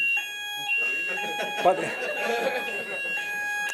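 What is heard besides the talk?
building test alarm sounding during a conference talk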